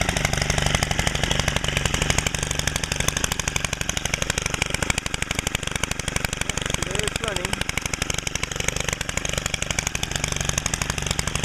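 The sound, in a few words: Stihl FS90R gas string trimmer engine idling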